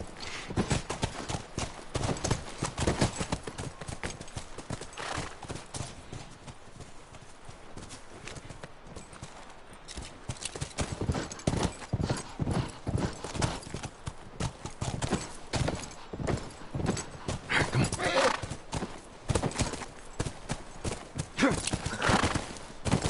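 Horses trotting in The Last of Us, a close, sustained run of rhythmic hoof clip-clops lasting over twenty seconds, with occasional snorts and whinnies and little talk.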